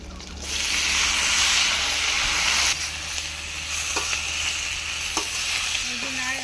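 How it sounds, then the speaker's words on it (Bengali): Bottle gourd with green chili and cumin stirred in a hot pan over a clay stove, a loud continuous sizzle and hiss that eases after a few seconds, with spoon scrapes and clinks on the pan. "সব নাড়াচাড়া করছি, লঙ্কা জিরা একসাথে।"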